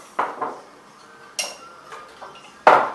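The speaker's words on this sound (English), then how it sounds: "a little bit of coconut oil, start stirring that in" A spoon stirs coconut oil into a raw chocolate mixture in a bowl, giving a few sparse clinks and taps against the dish with quiet pauses between them.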